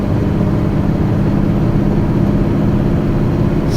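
A MAN TGM 18.250 truck climbing a hill in 8th gear, its engine a loud, steady low drone heard from inside the cab, constant throughout with no voices.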